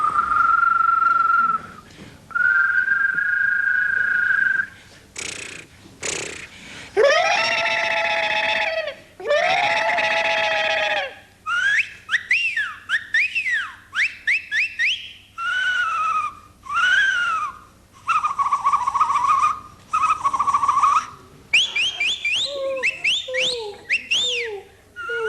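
High school students at the annual Leonard J. Waxdeck Memorial Bird Calling Contest at Piedmont High imitate bird calls with their voices: a run of sustained whistles, warbling trills, sharp chirps and squawky screeches, loud and close, in short bursts with brief pauses.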